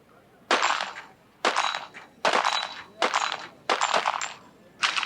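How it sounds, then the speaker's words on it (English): Small-bore .22 caliber rifle fired at targets during a team shooting competition, six sharp reports spaced roughly a second apart, each with a short ringing tail, close and loud with no talk. "So they're going to load for him and keep that rifle shooting."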